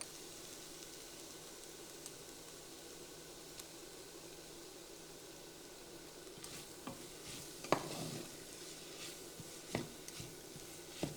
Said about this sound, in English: So I'm going to stir this now for about a minute